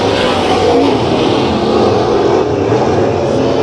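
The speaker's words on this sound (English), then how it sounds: "They're drag racing down the back straightaway" Race cars in a dirt track heat race drag racing down the back straightaway, a loud continuous roar of engines held at high revs with no breaks and no voices.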